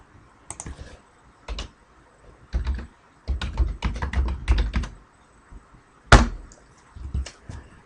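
Keys clatter on a computer keyboard in short irregular bursts of typing, close and moderately loud, with pauses between words and one sharper click near the end.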